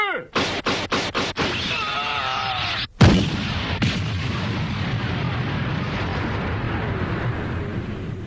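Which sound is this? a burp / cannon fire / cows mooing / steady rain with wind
cannon fire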